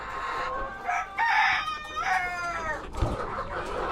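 Backyard pet chickens cluck close by and a rooster lets out a loud, drawn-out crow near the end, the calls overlapping in quick bursts.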